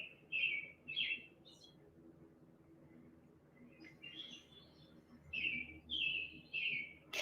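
Small birds chirp in bright, short bursts of a few quick notes, spaced with pauses over a faint, quiet background, with no talk.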